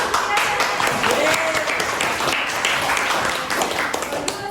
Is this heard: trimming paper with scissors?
no